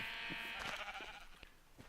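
A Minecraft sheep lets out a short, wavering bleat near the start, followed by a few faint clicks and taps from gameplay as the sound fades.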